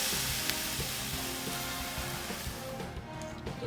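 Buttermilk-marinated chicken pieces fry in hot oil in a pan, a dense, steady sizzle and crackle up close that softens slightly near the end.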